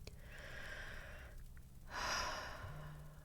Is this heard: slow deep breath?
yes